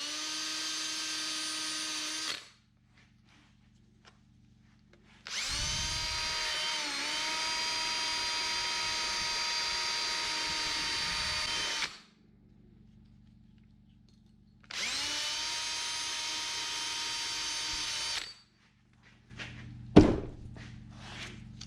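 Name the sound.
drill with brush cleaning shell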